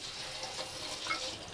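Tofu frying in hot oil in a pan over medium heat gives a steady, soft sizzle and crackle that runs evenly throughout, close and fairly quiet.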